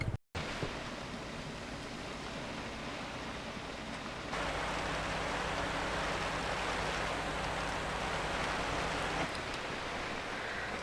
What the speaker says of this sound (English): it's supposed to rain out here in the Everglades